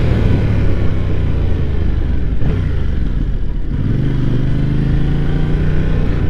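A Yamaha MT-07 motorcycle engine rumbles loud and close while riding, a steady low drone that dips and then rises again with throttle.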